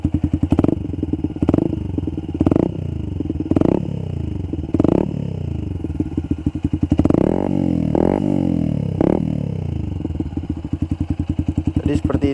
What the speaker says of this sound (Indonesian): Nah, ini dari suaranya udah kelihatan yang ngebas banget. Coba kita tarik gas.